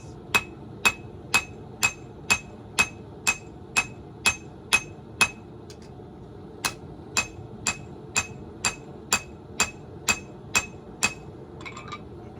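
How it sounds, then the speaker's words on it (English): A forging hammer with a cross peen draws down the bevels of an eBay Damascus knife blade, each blow a sharp metallic ring in a steady rhythm, about ten blows, a short pause, then another run of ringing strikes, close and alone. "I use the cross peen to draw the heel, and then the rest of it, I'll just come down and I'll work one spot at a time."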